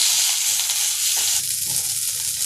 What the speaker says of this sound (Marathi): इथं आता मी खोबरे भाजून घेत आहे।